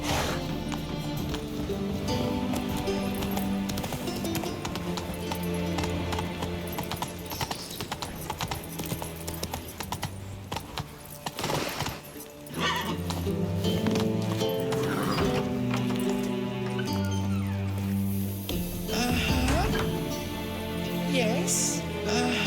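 Horse hooves gallop at a quick, steady clip-clop throughout in The Witcher 3, layered over swelling orchestral game music, with a brief lull midway.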